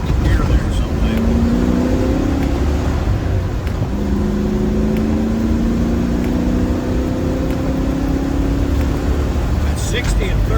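A Land Rover drives on a wet California road in third gear at about 60 with some wheel spin, its engine a loud continuous drone with rising pitch and steady road roar throughout.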